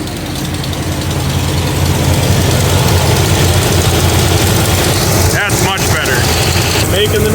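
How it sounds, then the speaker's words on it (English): A 2009-2014 engine idles steadily after a new serpentine belt and tensioner went in, giving a loud, even low hum with no squeal, while a few brief clicks or taps come through near the end. "you can hear that the engine is running a lot smoother"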